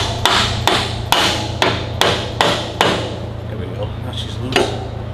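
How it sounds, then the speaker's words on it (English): A series of heavy, dull dead blow hammer blows strikes metal on the turbo of a Caterpillar 3406B engine in a Peterbilt cabover, about six thuds spaced roughly half a second apart, close and loud, then a final blow after a pause. "A womp with a dead blow hammer might make her a little more agreeable."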